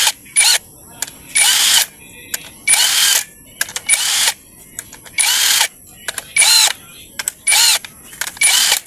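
A power drill or impact tool tightens a part of a motorcycle clutch assembly, firing in about eight short, loud whirring bursts separated by brief pauses, close and clear with no talk.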